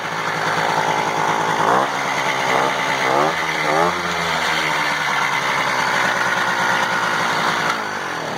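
A small free moped engine buzzes steadily up close for several seconds, its high, raspy tone rising and dipping through a few quick throttle blips, with people talking over it.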